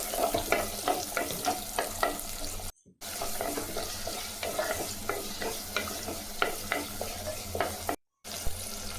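Small onions sautéing in oil for mutton thokku, a steady sizzle broken by repeated stirring scrapes, near and fairly quiet, with two brief silent gaps.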